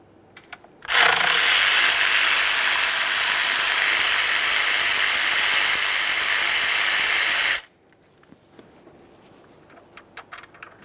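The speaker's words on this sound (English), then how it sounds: "Let's start removing the outer mounting bolts first." A power ratchet or impact tool spins out an outer valve cover mounting bolt on a 3.5L V6 engine of a Ford F-150, one loud continuous whir of about seven seconds that starts and stops abruptly, then quiet handling noises.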